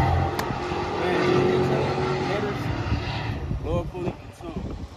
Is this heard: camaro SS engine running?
yes